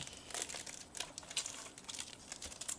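Plastic wrapper of a Disney Lorcana trading card booster pack being crinkled and torn open, a quiet series of close, irregular crackling bursts with no talking.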